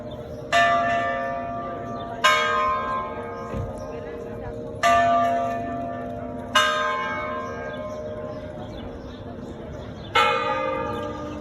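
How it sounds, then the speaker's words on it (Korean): Bells of Segovia Cathedral in Spain ring out in slow, separate strikes about every two seconds, each resonant clang decaying over a steady outdoor crowd murmur with faint voices. "종이 울립니다"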